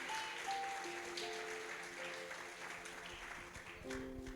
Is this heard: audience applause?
yes